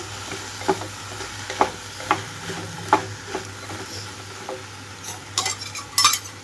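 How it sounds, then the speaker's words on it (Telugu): Okra pieces drop into a pan of golden fried onions for a tangy bendakaya pulusu, sizzling steadily while a spoon scrapes and stirs in uneven strokes, with louder clatter near the end. "ఉల్లిపాయలంతా గోల్డెన్ కలర్కి వచ్చేటప్పుడే కట్ చేసి పెట్టుకున్న బెండకాయ ముక్కలన్నీ ఇందులోకి వేస్తున్నాను"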